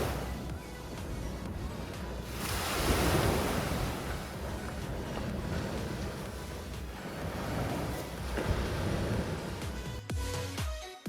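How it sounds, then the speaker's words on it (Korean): Ocean waves wash steadily onto Wahyeon beach on Geoje Island, a continuous broadband surf roar with gentle swells and light wind buffeting the microphone, heard alone without voices. "와현해변의 파도 소리에 귀를 기울여 보세요"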